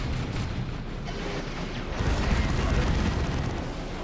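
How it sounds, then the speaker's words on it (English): A D-cannon singularity blast in the Warhammer 40,000: Dawn of War 2 strategy game makes a deep, rumbling burst that swells partway through amid ongoing battle noise. "That's a singularity there from the D-cannon."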